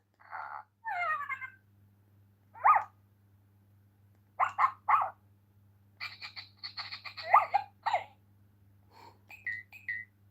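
A toy dog gives a series of tinny electronic barks and yaps, some singly and some in quick clusters, over a low steady hum.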